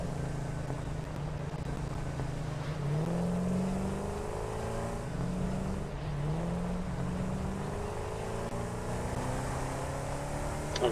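A tractor drives along a route in the factory-building video game Satisfactory, a steady low engine drone with shifting, rising and falling tones like gear changes, moderately quiet and continuous throughout without speech.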